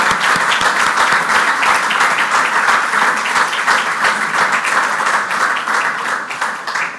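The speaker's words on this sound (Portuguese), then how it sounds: "tivessem também uma salva de palmas pelo enorme trabalho que têm feito" A conference audience gives sustained, loud applause, many hands clapping densely and evenly across the whole stretch, tapering slightly at the close.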